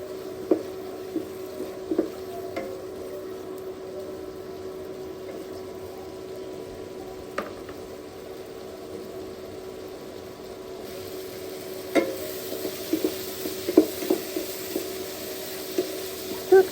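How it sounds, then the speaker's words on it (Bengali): Dried loitta fish (shutki) is stirred and fried in a pan with a quiet, steady sizzle. Occasional scraping clicks from the utensil grow more frequent toward the end, and no one speaks. "এখন শুটকিগুলা ভালোভাবে নেড়ে চেড়ে কষিয়ে নিব।"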